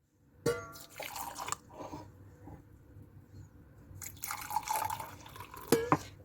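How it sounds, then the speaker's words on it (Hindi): Water poured from a tap or jug into a cup of instant coffee and sugar, giving close, irregular splashing and trickling bursts with a gap of quiet in between. "कॉफ़ी के बाद जो है मैं इसमें डालूँगी वाटर।"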